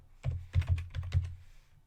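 A computer keyboard clatters in a short burst of close keystrokes, a handful of crisp clicks in uneven rhythm, quiet and alone.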